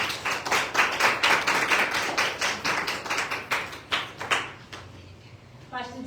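A church congregation claps hands together during a Sunday worship service, a steady rhythmic beat of claps that slows and stops, followed by a brief voice.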